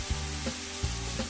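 Chopped chives stir-fry with a little pepper in a pan for Korean chive pancakes, a soft steady sizzle broken by a few light scraping stirs, close and alone.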